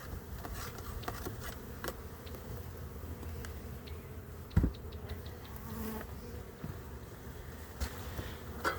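Honeybees buzz steadily while being moved from a nuc into a hive, with a continuous droning hum and a few sharper bumps and knocks from handling close by.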